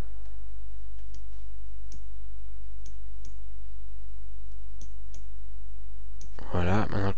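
Computer mouse clicks during a Cinema 4D tutorial: a dozen sharp, dry clicks spaced irregularly over a low steady hum, close and clear, with someone speaking French at the very end.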